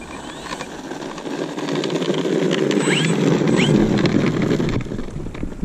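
FMS Ranger 1800 RC plane flying over a back country road, a steady whirring electric motor drone that grows louder toward the middle and then fades slightly, with faint bird chirps above it.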